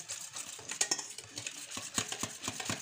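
A utensil whisks and stirs beignet batter with lemon zest in a bowl, producing quick, rhythmic scraping and tapping strokes, close and fairly soft.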